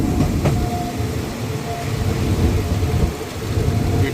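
Steady rumble of a crowded Bangkok commuter train carriage in motion between Makkasan and Hua Takhe, with a constant low drone and faint rail clatter from inside the car.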